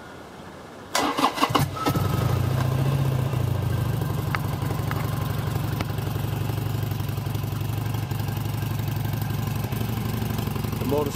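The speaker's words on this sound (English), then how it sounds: "Motorcycle starts with a jump." A 2008 Harley-Davidson XL883 motorcycle engine, jump-started, cranks with a few sharp bursts, then catches and settles into a steady, loud idle that runs on without pause.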